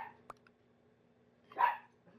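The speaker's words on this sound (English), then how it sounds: "I do not know what she's barking about." A dog named Juju gives a short bark and then a louder bark a moment later, both fairly close indoors.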